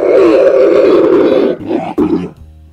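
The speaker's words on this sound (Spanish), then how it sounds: "algunos de esos gritos espeluznantes de criaturas son hechos por personas comunes y corrientes" A loud, growling video game creature roar voiced by a person rumbles for about a second and a half, then breaks into shorter snarling bursts before fading out.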